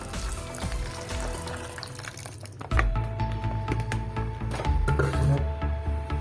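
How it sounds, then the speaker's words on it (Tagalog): Hot water poured from a kettle into a container of soaking herbs, a gurgling, splashing stream that grows fuller and louder midway as the vessel fills, heard close up with no talk. "Tapos, lalagyan na natin siya ng mainit na tubig."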